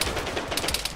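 Rapid bursts of machine gun fire in Arma 3, loud and close, with sharp repeated cracks packed tightly together across a brief moment.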